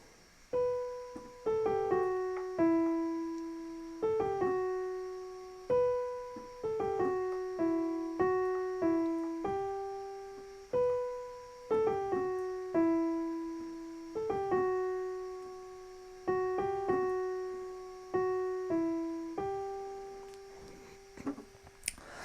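A slow, gentle piano melody of single notes with soft chords beneath, played at a calm, unhurried pace with each note decaying softly; the sung melody of a song.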